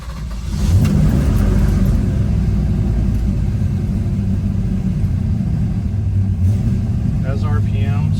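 A Dodge Charger on a test drive, its engine holding a loud, steady low rumble up close after a quick rise at the start, with a brief higher whine near the end.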